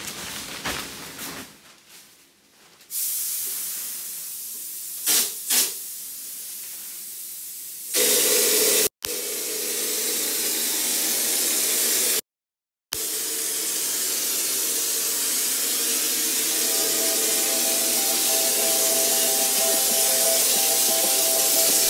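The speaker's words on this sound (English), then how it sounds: "So I'm gonna crank up my compressor, get to spraying, and let you guys watch." A compressor-fed hopper sprayer sprays knockdown texture onto a wall, a loud continuous hiss with brief cut-outs and quieter pauses early on, then a long steady spray.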